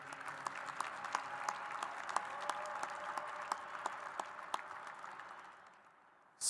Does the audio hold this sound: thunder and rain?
no